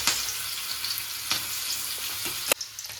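Onion and chili fry in hot oil with a steady, close sizzle, broken by a few sharp scraping stirs.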